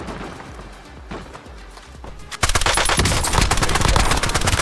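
Rapid automatic gunfire bursts out loudly in a video game after a quieter stretch of footsteps and ambient sound, with sustained rattling fire filling the rest of the clip.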